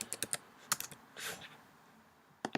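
Typing on a computer keyboard: a few quick clusters of sharp key clicks, close and fairly quiet, separated by short pauses.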